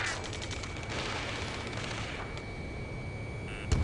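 Ace Combat 7 ground battle gunfire: a dense, continuous fusillade of rapid shots rattling under a droning hum, easing off partway through before one sharp closing crack.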